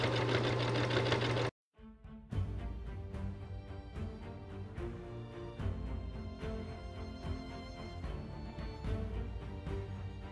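A sewing machine stitches a fabric Viking hood in fast, steady mechanical runs, loud and close, pausing briefly before starting again.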